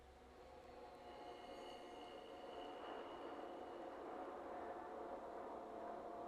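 Anvil from Hell texture sample from CoV Orchestra in a dark UK drill beat, a faint, continuous metallic rumbling and grinding wash with a thin high whine, steady throughout with no distinct hits.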